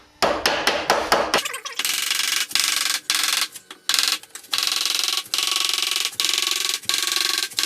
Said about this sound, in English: And you do that by hitting the edge, not all the way up, but right on the where the seam is.